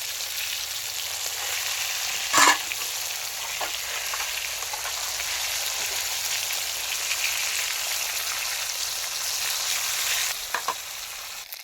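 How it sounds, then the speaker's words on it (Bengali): Fish fry in hot oil outdoors beside a pond, giving a steady, close sizzling hiss with a sharp scrape or spatter near the start and a few faint pops later. "এই তো মাছ ভাজা প্রায় হয়ে গেছে"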